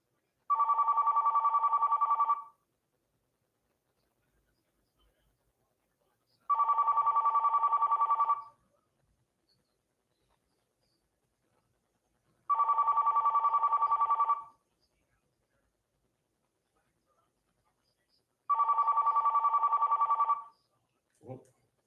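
A telephone rings in four long, evenly spaced electronic bursts, each about two seconds, separated by quiet gaps, clear and fairly close, followed by a brief faint sound at the end.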